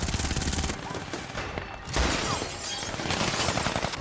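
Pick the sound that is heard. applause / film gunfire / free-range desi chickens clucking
film gunfire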